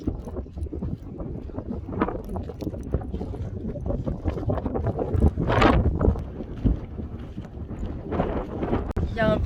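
Strong wind gusts blowing across a beach at dusk, a loud steady roar of wind buffeting the microphone with rising surges, while a person talks over it.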